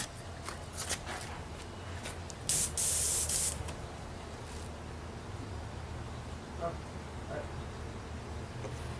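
Spray paint hisses onto a Mobius action cam in one loud, close burst of about a second, surrounded by fainter rustling and handling noises and low background hiss, with someone speaking at times.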